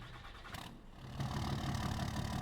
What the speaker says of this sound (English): This is such a good sounding truck.